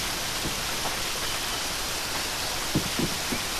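Steady broadband rush of a waterfall in the video game Lost Odyssey, a constant wash of falling water with a few faint low thuds near the end.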